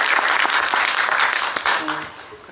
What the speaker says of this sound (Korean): 호연을 펼쳐주신 배우분들께 박수 한번 다시 보내주세요